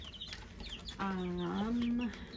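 A white-crested black Polish hen gives a short run of clucking calls, close and moderately loud, following faint background noise.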